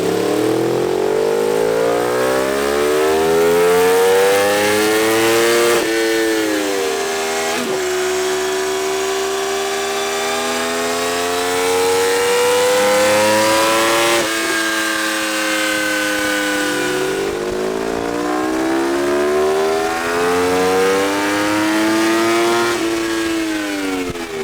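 A crashed Yamaha R1 road bike rebuilt as a race bike revs hard on a dyno, its loud high-pitched engine repeatedly sweeping up through the range and dropping back in several long pulls.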